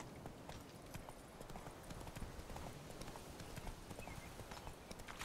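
Roach, a horse in the video game The Witcher 3, galloping with quick rhythmic hoof clip-clops, steady and continuous but quiet throughout.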